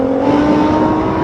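A Nissan GT-R drag racer bogs on launch, giving a short, loud, steady engine drone close by without any clear rev climb.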